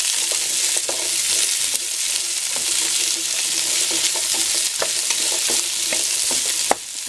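Chop suey vegetables with mushrooms and white and purple cauliflower stir-fried in a pan, a steady loud sizzle with repeated clinks and scrapes of a utensil stirring throughout, no voices.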